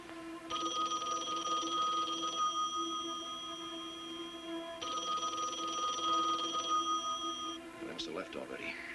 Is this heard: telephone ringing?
yes